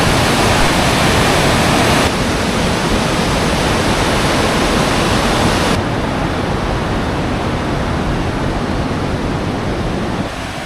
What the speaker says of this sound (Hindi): देखो ज़रा पानी का फ्लो देखो